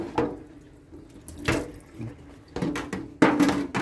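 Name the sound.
rinsing peas in water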